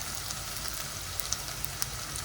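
Ingredients for chicken momo filling frying in a pan that is still heating up, giving a soft, steady sizzle with a few faint crackles and pops, heard alone without talk.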